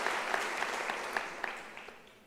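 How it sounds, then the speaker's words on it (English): Applause from an audience at an academic year opening ceremony, steady and moderately distant, fading gradually over a couple of seconds with a few sharper claps standing out. "Can I request her to stand and you give her a round of applause?"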